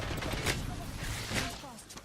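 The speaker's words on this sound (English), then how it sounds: "that's the sound of me zapping somebody" Two bright electronic zaps from an energy weapon in Apex Legends cut through a dense, continuous din of game noise and muffled voices.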